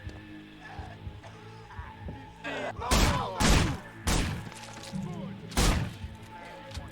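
Gunfire in the video game Manhunt: several loud, sharp shots and thuds land in irregular bursts over a background of game ambience.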